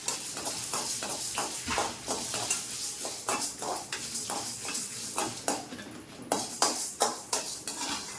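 Toor dal and dried red chillies dry-roasting in a pan, rhythmic dry scraping and rattling of a spatula at a steady pace, close and moderately loud, with no oil sizzle and no voices.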